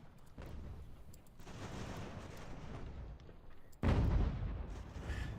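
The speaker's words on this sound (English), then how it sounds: "The cannons are firing." Cannon artillery fire in the video game Ultimate General: American Revolution, a continuous rumbling barrage of battlefield booms with no speech, jumping to a louder, heavier blast near the end.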